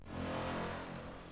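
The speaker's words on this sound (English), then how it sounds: "This is basically a big lead sound, but I added a lot of distortion and a lot of reverb" A thick, distorted synth lead made in the Pigments software synth holds a sustained note, washed in long reverb that swells and slowly fades.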